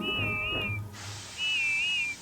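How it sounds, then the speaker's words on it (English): A cartoon train engine gives a funny warbling whistle twice, each a wavering high tone that dips and rises, the second sounding over a loud hissing burst of steam, heard close with no talking. "Then at last she heard Whiff's funny whistle."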